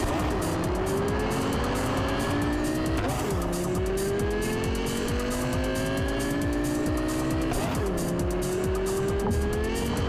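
A race car tears through tight city streets in Cyberpunk 2077, its engine loud and continuous with rising and falling gear whines and brief tire squeals through the turns.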